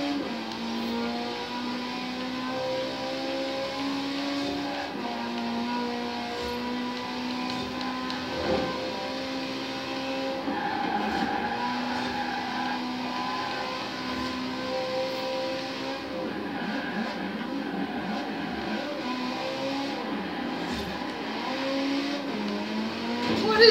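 A Bentley 8-litre car engine in the racing game Forza Horizon 4 drones steadily throughout, with shifting revs and pitch changes as the car accelerates, joined by other engine noise and occasional tire sounds.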